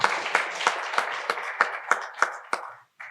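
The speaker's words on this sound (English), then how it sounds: "A round of applause." Applause from an audience at a college's fiftieth anniversary celebration, a run of about ten distinct, evenly spaced claps that sound close and fairly loud, ending in a short silence.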